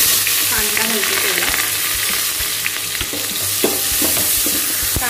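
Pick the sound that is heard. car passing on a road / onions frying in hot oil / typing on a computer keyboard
onions frying in hot oil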